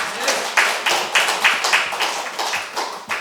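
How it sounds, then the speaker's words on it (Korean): Clapping from a church congregation during a Sunday morning worship service, a brief round of scattered handclaps in an uneven rhythm, fairly close and moderately loud. "격려의 뜨거운 박수 한번 보내주세요."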